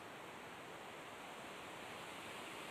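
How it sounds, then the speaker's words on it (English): Wind blows through trees in a steady, broad rushing gust that stays even for the whole stretch, soft and distant with no voices. "Oh, there goes another gust."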